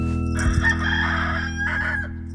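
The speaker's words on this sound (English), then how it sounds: "There's a cockerel going cock-a-doodle-oo. He always does that when the sun comes up." Cartoon cockerel crowing cock-a-doodle-doo at sunrise, one loud drawn-out crow close up, sounding over a steady musical background.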